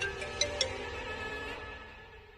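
A mobile phone rings with a steady melodic ringtone in a scene from the Hindi TV drama Kundali Bhagya, playing alone at moderate volume and fading slightly toward the end.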